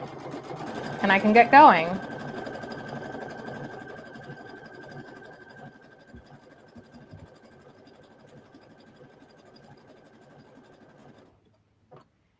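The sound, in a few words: Brother Aveneer sewing machine stitching fabric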